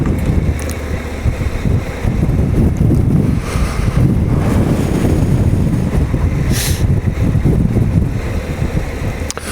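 Strong wind buffets a high hilltop in the Welsh Borders, roaring loud and close with heavy gusty rumble and microphone buffeting across the whole stretch, no voices.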